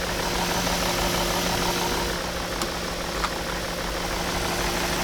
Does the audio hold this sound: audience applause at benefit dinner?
no